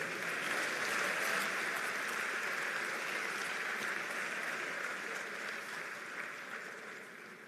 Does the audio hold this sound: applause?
yes